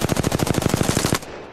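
Rapid automatic gunfire in the video game Apex Legends, a close burst of about fifteen evenly spaced loud shots that stops abruptly, leaving a brief fading tail.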